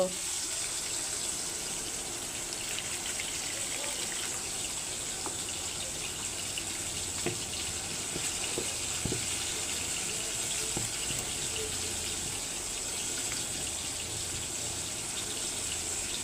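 Water poured from a tap into onion, salt, cumin, chilli, coriander and turmeric powders in place of oil, a steady faint gush running throughout with a few small clinks.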